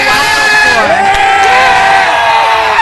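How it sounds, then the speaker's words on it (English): Large crowd at a fight event roars and cheers loudly for a fighter, a dense sustained wall of shouts and whoops with rising and falling yells, close and continuous throughout. "Another fighter that you can hear the crowd just go wild for."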